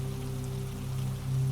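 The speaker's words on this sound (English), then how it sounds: "Above you, the rain continues to bead and roll across the glass" Rain falls on the glass roof of a greenhouse in a storm, a steady soft patter with a low constant hum beneath, even and unbroken throughout.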